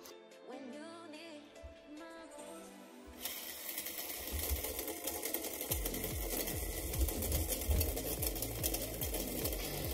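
A small electric motor runs as the load on a homemade hydrogen fuel cell. Its steady, close mechanical whir and rattle start a few seconds in and continue without speech.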